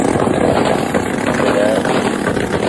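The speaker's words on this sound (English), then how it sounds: "Just revving his motor up." A motorcycle engine revs loudly and steadily for a few seconds in a residential neighborhood, its rough mid-range roar continuous and close with no pauses.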